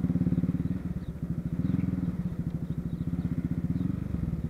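A Honda CB Twister motorcycle engine idles close by with a rapid, even putter that rises briefly and settles back, loud and steady throughout.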